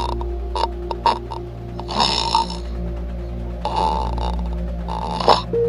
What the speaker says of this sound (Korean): 들어보자! 코골이 소리 들어보자!